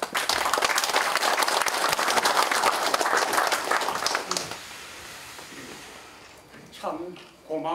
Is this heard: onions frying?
no